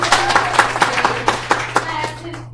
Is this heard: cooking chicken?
no